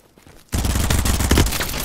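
Gunfire in the video game BattleBit Remastered: a brief quiet stretch, then a loud, sustained burst of rapid shots that keeps going to the end.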